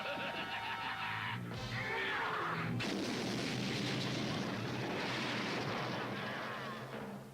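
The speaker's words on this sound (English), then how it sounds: "I guess it would make that big of an explosion" A large explosion in a Transformers cartoon rolls out as a heavy, sustained rumbling blast that stays loud throughout, with some shifting crackle and debris noise before it tails off.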